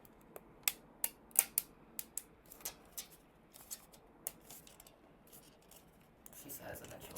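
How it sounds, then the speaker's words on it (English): Support material snapped off a 3D print by hand: a run of sharp, crisp plastic cracks and clicks up close, irregularly spaced, fading into softer scraping handling sounds. "break the supports off on camera"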